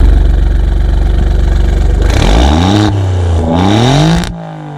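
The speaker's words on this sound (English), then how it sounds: "we should probably start her up and give her some blips in race mode" A 2022 Alfa Romeo Giulia Quadrifoglio in race mode sits at a loud, steady idle, then its engine is blipped twice, rising sharply in pitch each time before falling back, heard up close with no talk.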